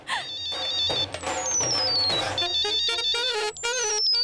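An incoming call rings on a phone as a melodic electronic ringtone, playing its repeating tune continuously at moderate volume over a faint background in a dramatic TV series scene.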